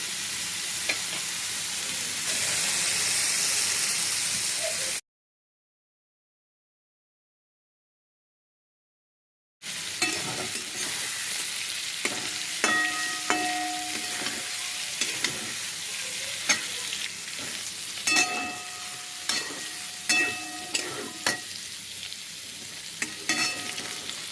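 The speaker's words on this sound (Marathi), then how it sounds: "थोडंसं तेल आणि त्यामध्ये क्रीम टाकलेली आहे त्या क्रीममुळे खूप क्रीमिशी आणि खूप सॉफ्टी टेस्टी असे छान होतात आपले सोयाबीन दोन मिनटं असं परतून घ्यायचं" Soybeans stir-fried in a little oil and cream give a close, steady sizzle, then a short silence, then the frying resumes with repeated clinks and scrapes of a spoon stirring in the pan.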